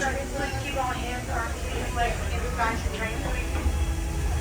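A low, steady rumble with hiss of the Walt Disney World Railroad train departing Main Street Station runs throughout while a voice talks over it.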